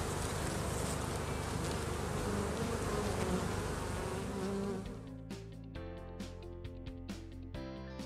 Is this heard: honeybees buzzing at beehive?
yes